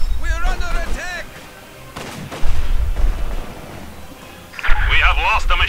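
Gunfire and artillery blasts from the video game Company of Heroes 2 come in loud bursts and booms, with shouted in-game voices over the battle.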